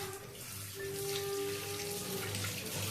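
Tap water running steadily into a sink while fish is washed, a continuous close, even gush with no talk.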